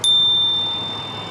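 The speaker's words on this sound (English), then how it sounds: "I feel like a bell just gently lets them know I'm coming straight in." A single bright ding from the bell on a Puckipuppy Labrador Pro e-bike rings out clearly and then fades slowly over about a second, with no talk.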